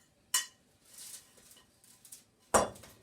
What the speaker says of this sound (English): So I'm going to spread that out on the roasting pan